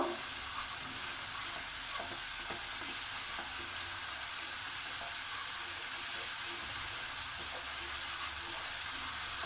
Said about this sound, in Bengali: সমস্ত কিছু আমি লাল করে মশলাটাকে ভেজে নেব